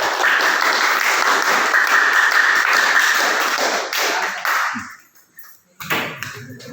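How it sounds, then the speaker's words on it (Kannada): A tenth-grade classroom claps for a student, a loud burst of sustained applause that fades out after about five seconds, followed by a few taps and knocks. "ಶ್ಯಾಮಲಾಗೆ ಎಲ್ಲರೂ ಕೂಡ ಜೋರಾಗಿ ಒಂದು ಸಲ ಚಪ್ಪಾಳೆ ಹಾಕಿ ಅಭಿನಂದನೆಯನ್ನು ಸಲ್ಲಿಸೋಣ"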